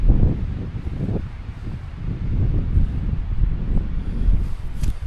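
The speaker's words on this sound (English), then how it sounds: "It's windy, right?" Wind blows steadily through a forest, a broad low roar with gusty swells rising and falling, close to the microphone with some buffeting, and no talking.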